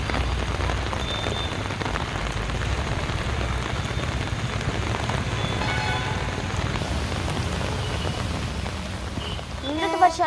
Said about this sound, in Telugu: హైదరాబాద్ లో పలు చోట్ల వర్షం దంచుకొడుతుంది